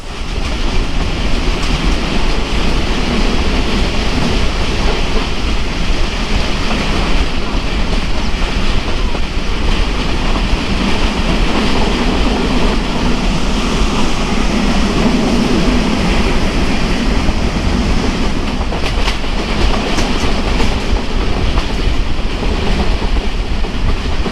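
The Titumir Express rolls steadily along the tracks from Rajshahi, a continuous roar and rhythmic clatter of wheels, loud and close throughout with wind buffeting.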